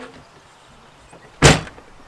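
A door slams shut once, a single loud sharp impact standing out against quiet room tone.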